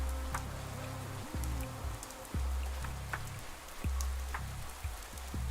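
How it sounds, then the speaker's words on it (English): Steady rain patters on a surface in the video game Pathologic 3, beneath a low droning background, with occasional soft thuds and movement sounds breaking through. "It's raining."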